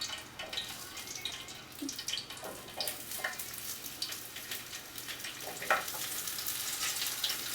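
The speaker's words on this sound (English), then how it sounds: "you're going to start adding your vegetables to the hot oil" Vegetables frying in hot oil for a tofu stir-fry make a steady, close sizzle, broken by occasional scrapes and light clicks from the pan, with no voices.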